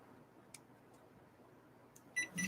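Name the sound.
electronic beeping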